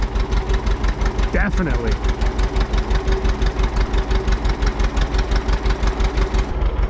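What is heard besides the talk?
2-cylinder John Deere tractor engine idling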